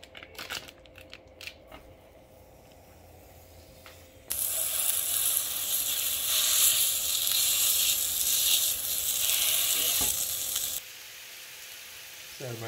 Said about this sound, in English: I'm gonna cook this sausage to put in it.